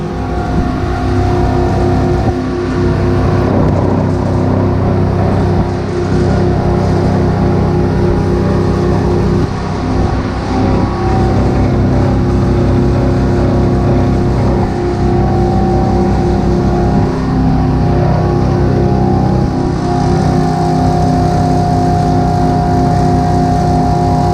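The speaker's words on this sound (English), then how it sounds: "We have the air compressor going, it's just filling up the tank." An air compressor running to fill its tank beside a roll-feed machine: a loud, steady motor drone with a constant tonal hum that goes on unbroken for the whole stretch, with no talking.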